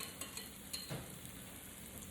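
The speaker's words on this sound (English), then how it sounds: "Okay, that sounds really good. That's what we wanna hear. Nice sizzle." Quiet, steady sizzling of socca batter frying in a pan, a soft continuous crackle with faint clicks.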